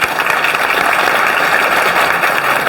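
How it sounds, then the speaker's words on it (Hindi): Loud, dense applause from an audience at a ceremony honoring an SSC GD topper, steady clapping filling the whole stretch without pause. "एक बार जोरदार ताली हो जाए।"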